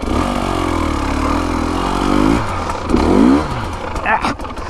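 A Husqvarna TE250 dirt bike engine revs and climbs through the gears while riding in desert sand, loud and close with rising and falling pitch sweeps, and a voice talks over it near the end.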